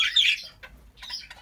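Budgie in an aviary gives a sharp, close squawk, then a short pause and a second burst of chattering chirps.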